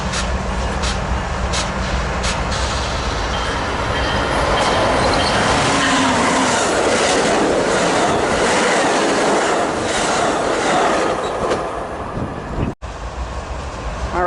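A freight train passing at a railfan spot in Commerce rolls by steadily up close, with a broad, continuous rumble and rhythmic clicking wheel beats throughout, ending in a sharp bump before the noise continues.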